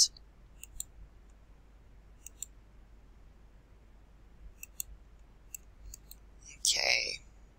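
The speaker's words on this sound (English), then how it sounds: "watch what happens when I click on this one" Computer mouse clicks, a few sharp faint isolated taps spaced irregularly in a quiet room, with a brief rustle near the end.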